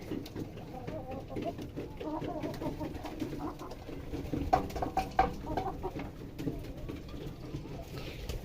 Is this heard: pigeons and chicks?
yes